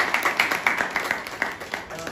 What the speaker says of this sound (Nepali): उहाँलाई एकचोटि स्वागत गरौँ ताली बजाएर